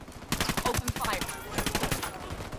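Close automatic gunfire in Ghost Recon Wildlands, with dense rattling bursts and a brief pause midway before more rapid shots resume.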